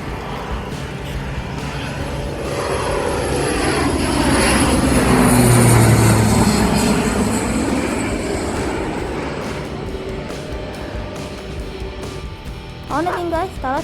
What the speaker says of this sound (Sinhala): තව ශ්‍රී ලංකන් එයාලයින් Airbus A320 එක තමයි ලෑන්ඩ් කරන්න ඉන්නේ